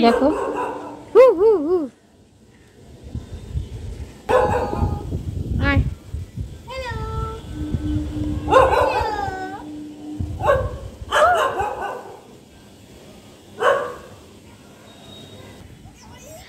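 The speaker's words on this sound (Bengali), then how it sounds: "আর পাশের বাড়ি একটা কুকুর ডাকছে" A neighbouring house's dog barks in several separate bursts, yelps and whining tones rising at intervals from moderate distance, while a person talks nearby between and over the barks.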